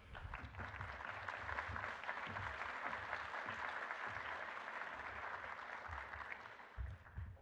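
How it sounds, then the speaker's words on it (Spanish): Steady applause from a sizable crowd at an academic publishing workshop, dense and continuous clapping that holds at an even level throughout. "Un aplauso"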